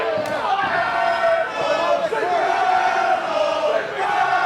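A darts crowd chants Urkel taunts at player Darius Carter, a loud, sustained, rhythmic mass of voices filling the hall with a few sharp bangs early on.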